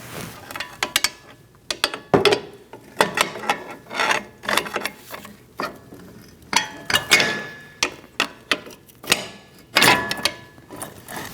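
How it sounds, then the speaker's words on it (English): A front CV axle is worked out of a 2016-2019 Chevrolet Cruze 1.4L, producing an irregular series of close metallic clunks, knocks and rattling bursts separated by brief pauses. "I'm going to pull it out from the bottom"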